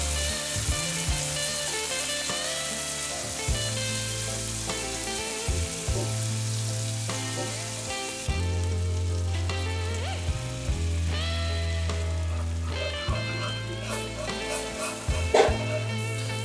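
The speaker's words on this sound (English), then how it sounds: "Add the Worcestershire sauce and melt the butter in the empty side of the skillet and whisk in the flour." Onions, garlic and butter sizzle steadily in a skillet as flour is whisked in, a continuous close frying hiss with intermittent scraping and clinking from the whisk and pan, no voices.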